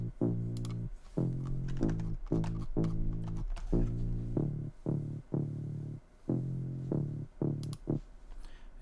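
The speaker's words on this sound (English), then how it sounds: "I actually layered two different basses, one sub bass and one fuzzy saw type bass," A layered bass for an electronic EP track: a deep sub bass stacked with a fuzzy, saw-type synth bass, playing a rhythmic line of short, punchy repeated notes with brief gaps, loud and alone.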